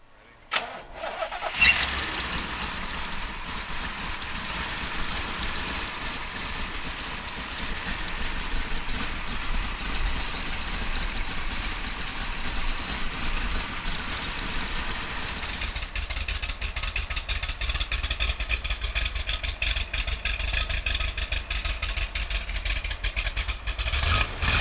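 A 1968 Chevrolet Corvette 427 V8 cranks and fires up loudly, then settles into a steady, rumbling idle that runs close and continuous to the end.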